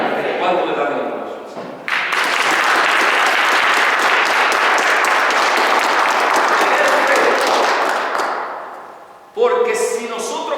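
A congregation in a church breaks into loud, full applause that holds steady for several seconds before tapering off, framed by a preacher speaking before and after.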